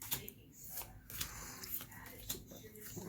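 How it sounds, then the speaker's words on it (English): Pokemon TCG cards are shuffled up close in a quiet room, with soft riffling and slapping bursts repeating irregularly and faint breathy movement in between. "now we're going to shuffle each of these individually."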